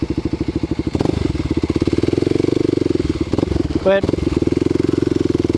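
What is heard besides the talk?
Kawasaki KLX250 supermoto motorcycle riding off-road through tall grass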